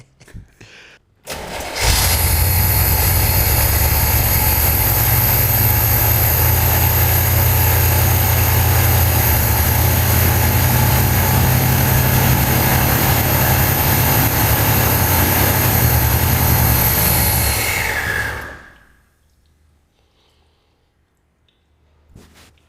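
A Honda XR50 motorbike engine starts up and runs steadily and loudly at a close, even drone for about sixteen seconds, then cuts off and fades to quiet.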